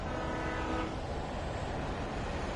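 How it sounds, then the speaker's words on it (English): A train rushes past in Alan Wake Remastered, a loud, dense rumbling roar of wheels and rail noise with a faint horn tone, steady and close for the whole moment. "Train."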